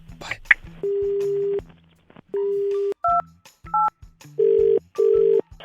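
Telephone being dialed for a radio call, a series of steady electronic tones and short two-tone keypad beeps in an uneven rhythm, with faint low background sound between them.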